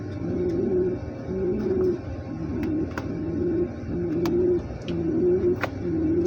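Pigeons coo steadily aboard a ship, their low rolling calls close and loud, repeating in overlapping phrases over a constant background hum.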